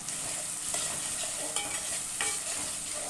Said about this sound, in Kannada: ನಾನು ಒಂದು ಎರಡು ಕಟ್ಟಿ ಕರಿಬೇವಿದೆ ಅದನ್ನು ಸೇರಿಸ್ತಾ ಇದ್ದೀನಿ